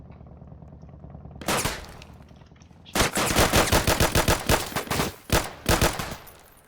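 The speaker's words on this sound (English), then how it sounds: "Shots fired." Gunfire in the video game Backwoods Law RP: a short burst, a pause, then a long rapid automatic volley of loud cracks with a few brief gaps, close and dominant over a low background hum.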